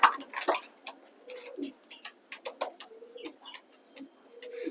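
Pigeons in a pigeon loft coo softly in short repeated phrases, mixed with light scratchy shuffling and flutter sounds nearby, with no talking.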